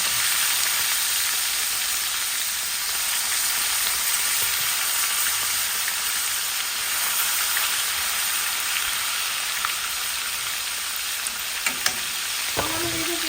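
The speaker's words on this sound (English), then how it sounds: "I'm just gonna fry these and then, Adding on to the rest of this." Small pieces of fish frying in a pan for a stewed fish dish, a loud constant oily sizzle and crackle with a few clinks near the end.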